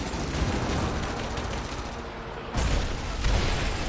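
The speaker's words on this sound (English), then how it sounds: "Got to signal Sophia to fire that trebuchet." A trebuchet in Rise of the Tomb Raider launches a shot, heard as a dense, loud rumbling barrage of booms and crashes that swells sharply partway through, with heavy low-end impacts dominating and no talking.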